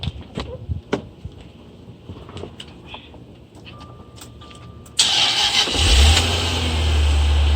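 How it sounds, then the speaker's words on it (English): A Jaguar engine cranks and catches after some quiet background rustling, then settles into a steady, loud running rumble close by. "Hold on, let's just run the engine."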